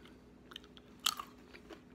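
Close, quiet chewing of crunchy cold-smoked almonds, with a few crisp bites and one sharper crunch in a short moment.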